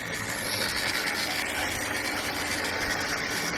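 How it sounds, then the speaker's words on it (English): A GWR Manor Class model locomotive's motor and gearing run in a steady, even whir with a high whine and gritty mechanical texture, close and unbroken throughout. "you'll be able to clearly hear that motor. That's the motor and the gearing."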